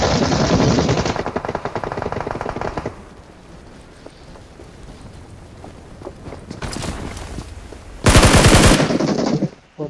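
Gunfire in the mobile game BGMI comes as rapid automatic bursts, loud at the start and again near the end, with a quieter stretch of scattered distant shots between.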